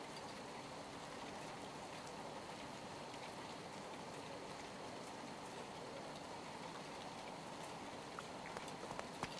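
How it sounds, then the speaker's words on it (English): Steady rain falls outdoors, a dense continuous patter of drops hissing on surfaces, faint and even throughout with a few sharper drips near the end. "It's raining."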